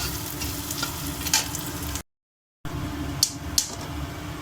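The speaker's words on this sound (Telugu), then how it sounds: "బాగా ఫ్రై చేసుకుందామండి, కొంచెం గోల్డ్ కలర్ వచ్చే వరకు." Onions sizzle in oil in a pan for egg puttu, with a steady crackling hiss and a few stirring scrapes. The sound stops briefly for a moment of silence, then resumes.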